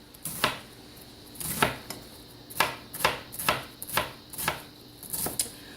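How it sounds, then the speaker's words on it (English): A knife shreds cabbage on a cutting board for veggie lo mein, giving a steady series of sharp, close chopping strokes with short pauses between them. "and then you're just going to shred it."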